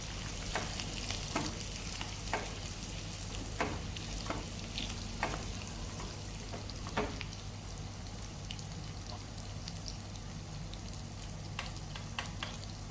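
Amla (Indian gooseberries) fry in oil in a pan for pickle, giving a steady soft sizzle with intermittent stirring clicks and scrapes, fairly quiet and close, with no voices.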